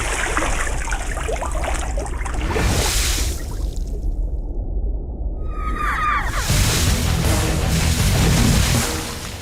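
Water is thrown onto a person in a tense dubbed Telugu film scene, with splashing and trickling around a short quiet gap.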